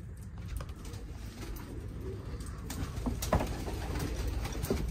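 Pigeons, including tumbler pigeon chicks, shuffle and softly coo in a loft, faint and close, with scattered rustles and flutters.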